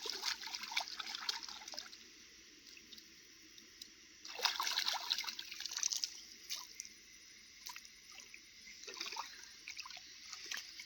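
A poisonous medicinal plant with a tuberous root is washed in river water, giving faint, intermittent splashes and trickling with short louder bursts and no talking.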